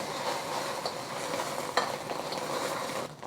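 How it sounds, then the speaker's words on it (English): Eggs sizzle and scrape in a hot, large frying pan as they're scrambled, a steady frying hiss with occasional utensil clicks, close by and without talk. "I'm just going to scramble the eggs today."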